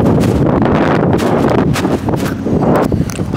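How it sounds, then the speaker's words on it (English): Loud, steady wind buffeting the microphone, a constant low roar with gusty rumbles throughout and no speech. "Oh, windy, it's a bit windy."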